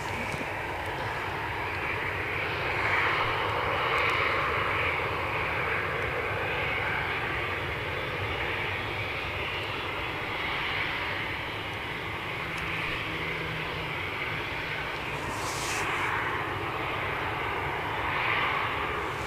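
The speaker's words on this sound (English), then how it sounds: "Ryanair have just pushed and turned with their Cork departure" A Ryanair jet airliner, just pushed back and turned for its Cork departure at Edinburgh airport, idles and taxis with a steady, distant engine drone and soft hiss that holds evenly throughout.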